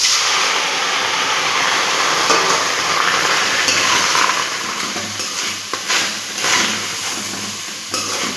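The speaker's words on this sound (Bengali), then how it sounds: "কড়াই গরম হয়ে গেছে বন্ধুরা, এবার টমেটোগুলো দিয়ে দেবো।" Tomatoes dropped into a hot kadai for chutney give a loud, continuous close sizzle and hiss with a few stirring knocks, and the sizzle eases slightly toward the end.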